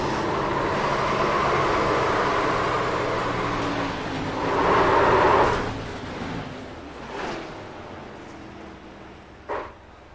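A race car revving hard on a track, a sustained roaring engine that swells loudly mid-way, then fades with a few shorter bursts and a sharp knock near the end.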